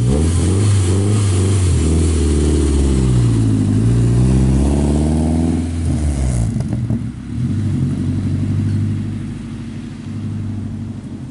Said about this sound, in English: Gotta do a massive burnout.